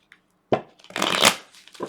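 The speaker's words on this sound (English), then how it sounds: "So, let's get the shuffling and finding out what's happening." Tarot cards are shuffled close up, a quick riffle and flutter of cards with a soft tap before it, brief and crisp against a quiet background.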